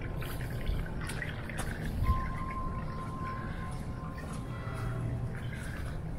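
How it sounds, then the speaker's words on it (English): Water trickles through a creek bed on a dark trail at night, a faint, steady flow with soft scattered drips and gurgles and no voices. "You can hear the trickling water and still see the whiteness from the creek bed."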